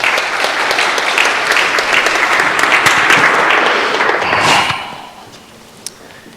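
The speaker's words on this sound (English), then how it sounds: "would you please give them first a round of applause?" Congregation in a church gives a round of applause, full and even clapping for about four and a half seconds before tapering off quickly into quiet room tone with one late clap.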